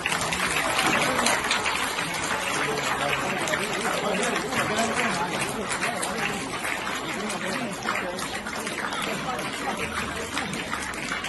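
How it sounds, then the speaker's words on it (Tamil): Students applauding at a school award ceremony: a steady, dense wash of many hands clapping together that holds at an even loudness from start to finish. "மாணவர் அனைவரும் பலத்த கரவொலி எழுப்புவோம். கைதட்டுங்கள் எல்லாரும்."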